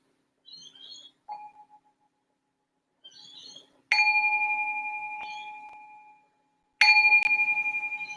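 A meditation bell is struck twice to open a guided meditation, each ring a clear metallic tone with a long, slowly fading sustain, heard alone after a few faint, brief chirps at the start.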